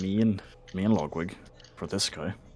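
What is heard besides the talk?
No everyday noise stands out behind the speech.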